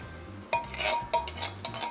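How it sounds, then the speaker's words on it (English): A spoon clinks and scrapes against a pot while ingredients are stirred into a vegetable soup, several sharp metallic knocks and scrapes over a low kitchen hum. "You want to stir that in."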